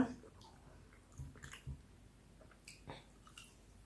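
Quiet wet chewing and a few crisp bites of fresh green chilies eaten with stewed pork belly, close up and sparse, with soft clicks between bites.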